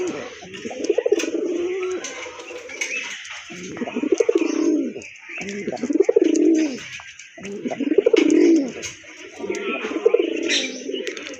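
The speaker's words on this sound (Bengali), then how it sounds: "তো আরেক জোড়া রাজগোল্লা কবুতর।" A pair of sky-blue, white-breasted Rajgolla pigeons at a pigeon farm coo in repeated rolling phrases, loud and close, with brief pauses between calls and faint chirps behind.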